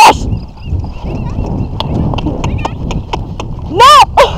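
Rhythmic clip-clop of horse hooves on hard ground, steady and close, with a loud whinny near the end.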